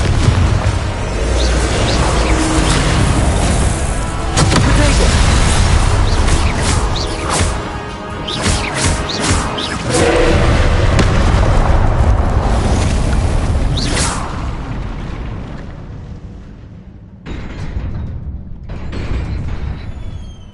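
Confringo spell blasts in a video game, a run of loud booming explosions and crackling bursts layered over heavy rumble, followed by a brief lull and a couple more blasts near the end.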